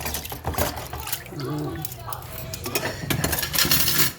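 Metal cooking pots clank and scrape while rinse water sloshes, close by, with a person talking over the clatter.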